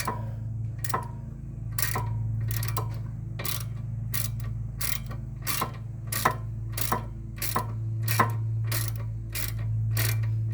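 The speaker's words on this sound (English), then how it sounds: "And then I go back and hit them with a torque wrench." Torque wrench clicking repeatedly while tightening rear wheel lug nuts on a 2018 Ford EcoSport, a steady run of sharp ratcheting clicks about every half second over a constant low hum, close and fairly loud with no talk.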